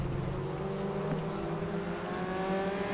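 Race car engines in the RaceRoom racing game drone steadily with layered harmonic whine, a continuous loud pack of cars near the first corner with no talking.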